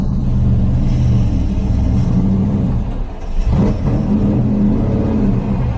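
A 700+ hp hot rod, the 'Flying Brick', pulls away with a loud, steady engine rumble that dips briefly midway and then comes back strong, with no talk.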